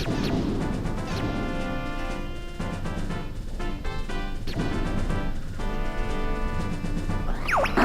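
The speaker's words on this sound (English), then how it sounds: "we get to shoot asteroids for nearly no reason whatsoever" Asteroids being shot and smashed in the video game Star Fox 64, with crunchy crashes and laser blasts repeating over loud, continuous game music.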